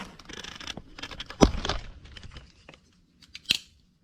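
Scissors or a blade cut through packaging during the unboxing of a Saddlemen motorcycle step-up seat: a few close, crisp snips and crinkles, one sharp cut, then quiet and a final short snap.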